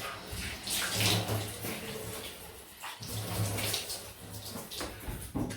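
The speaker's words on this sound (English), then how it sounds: "Just gonna have a cold water rinse there." A tap runs cold water into a sink to rinse a safety razor, a steady splashing gush with a brief pause in the middle before the flow resumes, close by and with no talk.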